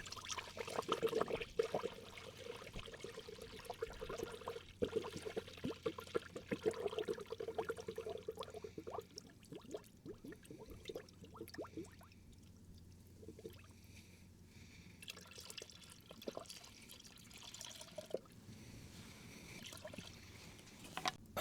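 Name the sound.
coolant being poured into a Subaru WRX cooling system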